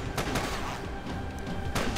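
Gunfire in Max Payne 3 crackles in sharp, loud shots at irregular intervals across a dense, rumbling game soundscape, with no talking.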